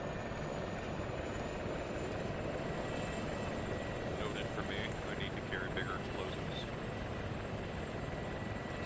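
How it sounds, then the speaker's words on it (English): Helicopter lifting off in the military game Arma 3: a steady, loud rotor and engine drone fills the whole stretch without letup, while radio-style voices chatter faintly underneath. "Lift the chopper to take off."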